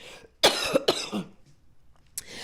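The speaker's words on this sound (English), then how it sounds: "excuse the coughing" Two harsh coughs close together, followed by a brief pause and a softer third cough, close to the listener with no speech.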